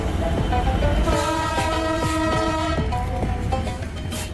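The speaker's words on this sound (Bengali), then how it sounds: "ঈশ্বরদী হতে ননস্টপ চিলাহাটি এক্সপ্রেসকে দাঁড় করিয়ে চলে যাচ্ছে আন্তনগর একতা এক্সপ্রেস" Intercity Ekota Express train passing Bangabandhu Bridge East railway station in Bangladesh, its horn sounding long steady tones in several bursts over a close, loud rumble of the moving train.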